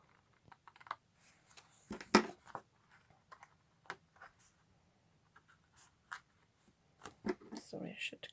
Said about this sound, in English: Sorry, I should cut this a bit neater.